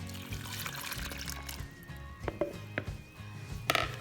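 Sourdough starter liquid poured into flour for a Dutch oven wheat sourdough bread, a soft trickling pour with a few small clinks and taps, quiet and close, without talk.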